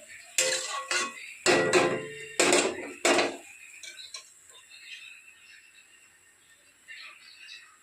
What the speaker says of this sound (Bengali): হালকা ঢাকা দিয়ে দিলাম